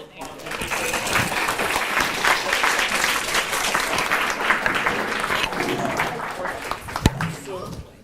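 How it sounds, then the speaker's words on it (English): A debate audience applauds the debaters with loud, dense clapping that fills the room for several seconds, then begins to fade near the end. "let's give all the debaters a round of applause"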